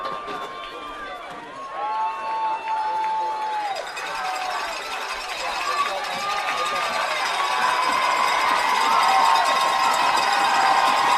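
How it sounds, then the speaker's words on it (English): The home crowd at a Cardinal Newman high school football game against Vintage cheers and roars, swelling steadily louder toward the end, with voices and whistles mixed into the noise. "Newman crowd making some noise."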